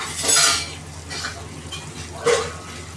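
Mutton curry with bottle gourd being stirred in a pan after turmeric and chilli powder go in, giving a few scraping, sizzling strokes of the spoon with a soft frying hiss between them, close and alone.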